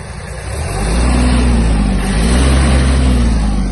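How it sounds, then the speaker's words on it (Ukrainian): A Kubota GL-240 Japanese mini tractor engine revs up from idle, its low, steady diesel drone rising within the first second and then holding loud and close. "Вихлоп чистий, давайте піддам газу"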